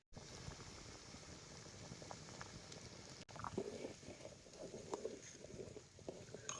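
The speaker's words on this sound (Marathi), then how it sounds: "आता याला चांगली खळखळून कशी उकळी आल्या बघा" Thick mutton curry bubbles and gurgles vigorously in a pot over a wood-fired stove, a close, continuous boil with irregular pops and splutters, no voices.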